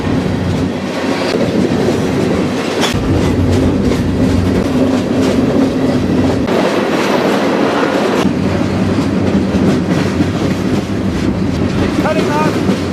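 A freight train rolls on rails near Atlanta, heard from aboard while train-hopping, a loud continuous rumble and rattle with clickety-clack and gusting wind noise throughout.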